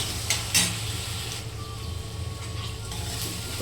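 Tomatoes fry in a pan for a cauliflower curry, giving a steady close sizzle, with a couple of scraping stirs near the start.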